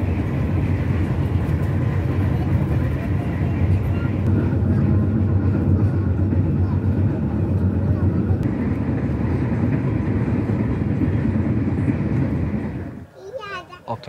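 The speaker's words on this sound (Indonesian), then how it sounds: "Oke, kereta api Tegal Bahari tiba di stasiun Cikarang pukul" Interior of the Tegal Bahari train pulling into Cikarang station: a steady low rumble and rolling noise that carries on for several seconds before cutting off, with voices faintly under it.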